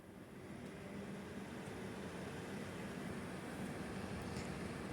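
A steady low whirring hum of an Aircond D-20L dehumidifier switching on and running, its fan constant and fairly quiet, with no voices.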